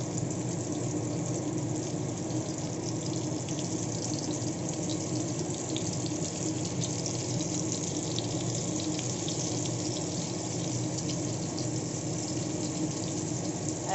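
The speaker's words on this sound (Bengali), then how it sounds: "এখন আমি তেলে হালকা করে এগুলো সাজিয়ে দেব।" Bitter gourd pieces frying in oil on a medium gas flame give a steady, even sizzle with a constant hiss at moderate level and no talk.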